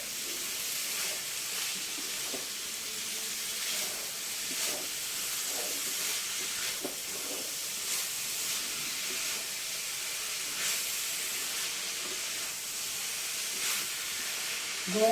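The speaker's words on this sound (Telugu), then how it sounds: "ఇప్పుడు ఇవి వేగినాయి కదా, ఈ చుక్కకూర వేసేసుకుందాం" Prawns fry in oil in a pan as sorrel-like chukkakura greens go in, giving a steady bright hiss and sizzle with faint clinks and stirring sounds throughout.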